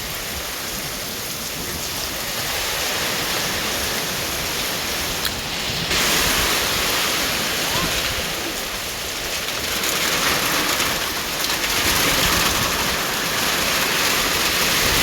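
Heavy rain driven by strong wind during a storm in Laos, a loud, dense, continuous roar of falling water that surges and eases in waves, with no voices.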